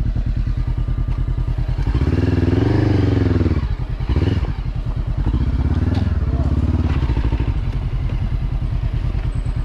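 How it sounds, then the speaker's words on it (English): Motorcycle engine running close by with a loud, rhythmic throbbing idle that rises into a rev, dips briefly, then settles back into a steady pulsing idle. "Every time he gets the bike in gear, the bike turns off."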